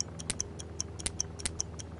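A bomb in I Expect You To Die ticks steadily, with sharp, evenly spaced clicks roughly every few tenths of a second over a faint background hum.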